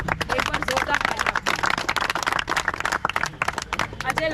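Audience at a student protest rally clapping and cheering in dense, continuous applause, loud and close, with voices mixed into the crowd noise throughout.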